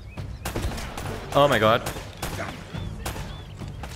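Rapid gunfire bursts in Uncharted: Drake's Fortune, loud and close, crackling in quick volleys with a shouting voice breaking in over the shots.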